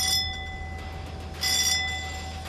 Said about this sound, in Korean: 종소리와 함께 이튿날 아침